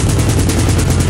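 A 30 millimeter cannon fires a sustained burst, rapid loud reports blending into a continuous dense roar with no pauses.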